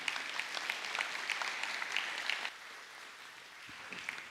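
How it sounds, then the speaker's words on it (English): An audience claps steadily for a few seconds, then the clapping thins and fades to scattered claps near the end. "Would you please welcome Vaden as he comes to share with us this morn"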